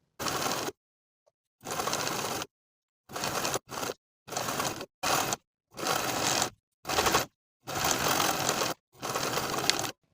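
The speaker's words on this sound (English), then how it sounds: "I'll top stitch to secure that hem in place" A sewing machine top stitches a quarter-inch pressed fabric hem on a V-neck top, running in loud bursts of steady whirring, about eight runs separated by short pauses, close and alone.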